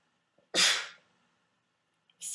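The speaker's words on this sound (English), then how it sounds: "My favorite thing to do is sneeze." One sharp, loud sneeze bursts out up close, followed by quiet before the start of another breathy sound.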